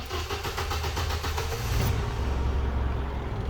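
A 1980s car engine, just refitted with a new carburettor, cranks and catches, settling into a steady, even idle that runs on loudly and close by.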